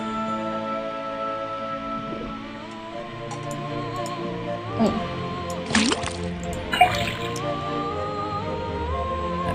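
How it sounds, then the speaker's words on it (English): A faucet is tapped in a video game, letting liquid drip into a cauldron: soft drips and small watery splashes over a layered tonal game soundtrack, with a brief voice exclaiming once. "then tap the faucet."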